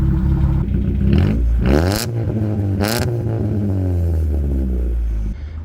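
A Nissan Pulsar NX engine idles loudly through a temporary exhaust, raspy and rumbling, briefly revving twice before settling back to a steady throaty idle.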